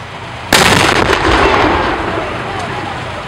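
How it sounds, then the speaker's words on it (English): A cannon fires to start a Fourth of July street parade on South and North Main Streets, one loud sudden boom that rolls into a long echoing rumble and crowd noise. "The parade started with a shot from a cannon"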